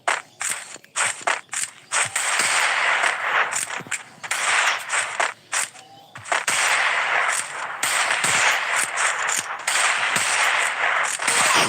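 Rapid bursts of automatic gunfire and mechanical weapon clatter from a shooter video game, loud and close, with short pauses between volleys and no talking.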